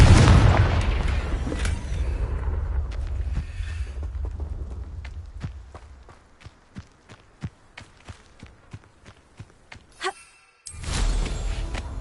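Confringo fire spell in the Hogwarts Legacy video game: a loud booming blast at the start that fades into a rumbling tail, followed by sparse footsteps-like taps and another burst of sound near the end.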